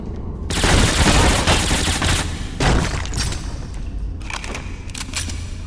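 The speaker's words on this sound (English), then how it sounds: "Fire a weapon indoors and you'll hear a harsh echo bouncing off the walls." Weapon fire indoors in the 2006 shooter Black, with loud sustained bursts of automatic shots and a harsh echo ringing off the walls between volleys.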